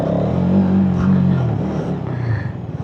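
A Hero Xtreme 250R motorcycle revs hard during a wheelie, a loud, steady engine drone that swells and then eases off as the bike rides past close by.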